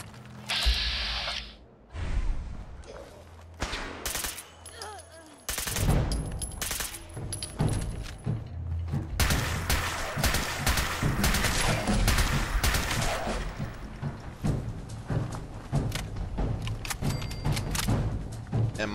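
Battle in Fallout 4 between Gunners, Brotherhood and Super Mutants, a dense rattle of gunfire and mechanical clatter that runs steadily on its own, with rapid bursts and sharp cracks continuing throughout.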